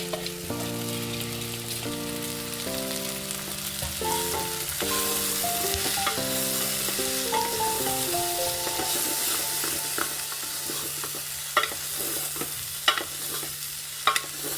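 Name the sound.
sprouted beans frying in a pan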